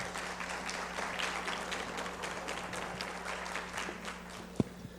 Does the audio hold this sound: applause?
yes